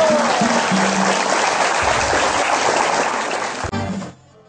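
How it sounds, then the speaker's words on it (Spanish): Loud, dense applause from an audience at a celebration honouring grandparents, continuous for nearly four seconds with some tonal background sound, then cutting off abruptly into quiet. "Un aplauso para todos ustedes"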